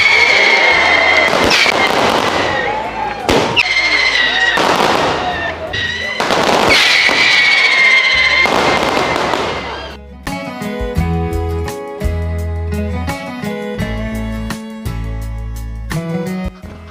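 At a parish Festa Junina bonfire celebration, fireworks crack and boom in loud, dense bursts for about ten seconds, followed by festive music with sharp beats.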